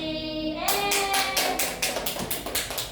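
A classroom group claps in unison, about ten sharp, evenly spaced claps in a steady rhythm that start abruptly after a short sustained tone.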